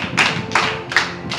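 A church congregation clapping hands during a Sunday sermon, four broad claps in a slow steady rhythm, close and fairly loud with no talking over them.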